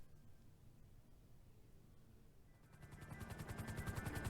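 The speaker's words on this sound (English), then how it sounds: "we are going to take our helicopter and kind of fly over here" A helicopter in GTA 5, starting as a faint, muffled hum before its rotor beat swells into a fast, rhythmic thumping that grows steadily louder toward the end.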